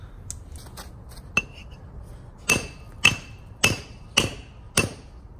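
An axe strikes one half of a Harbor Freight anvil, producing a series of sharp metallic clanks with a ringing tone, about six hits in an irregular rhythm, close, with quieter taps before them.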